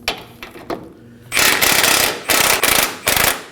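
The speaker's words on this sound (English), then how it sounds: "We're going to put it on one side, and on the nut side, we're going to be using a 21mm socket. Go ahead and get it loose." A ratcheting 21mm socket loosens a nut on a camber arm of a 2017-2024 Nissan Armada, giving loud close bursts of rapid ratchet clicks in several separate runs after a quieter start.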